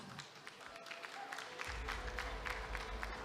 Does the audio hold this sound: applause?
yes